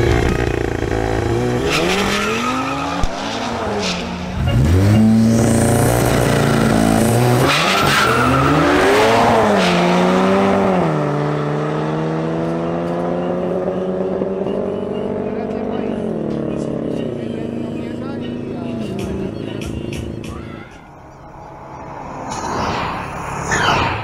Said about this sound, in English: next matchup is between Guillermo Umana's Volkswagen Golf GTI and Anthony Julio's Audi RS3